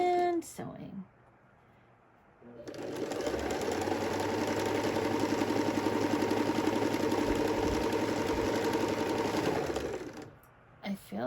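A sewing machine stitches quilt fabric for a mystery quilt in a steady, continuous whirring run of about seven seconds, loud and close, with quiet pauses and brief handling noises before and after.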